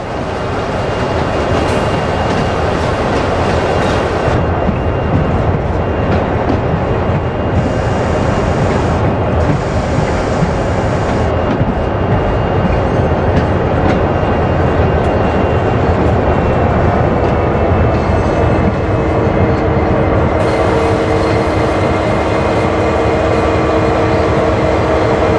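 A CSX heavy-haul freight train in the Train Sim World game rolls to a halt, with a steady loud rumble, rail noise and a sustained tonal hum that carry continuously throughout.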